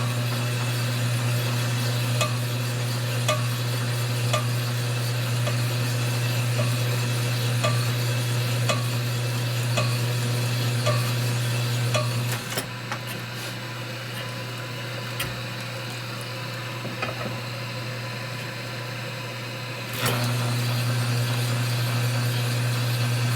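Stone honing the cylinder of a 1965 Harley-Davidson panhead 74ci engine, a steady droning hum with a faint rhythmic scraping tick, pausing briefly midway before resuming at the same level.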